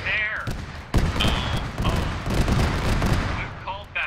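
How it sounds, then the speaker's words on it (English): Explosions from a friendly BMP in a military video game come as repeated heavy booms and thuds at irregular intervals, while players talk over them on radio. "The explosions are a friendly BMP, be advised."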